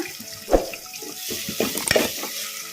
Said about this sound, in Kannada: ಈಗ ಟೊಮಾಟ ಮೆತ್ತಗಾಗೋವರೆಗೂ ಫ್ರೈ ಮಾಡ್ಕೊಂಬಿಡೋಣ ಟೊಮೊಟೊನ ಮೀಡಿಯಮ್ ಫ್ಲೇಮಲ್ಲಿ ಫ್ರೈ ಮಾಡ್ಕೋಬೇಕು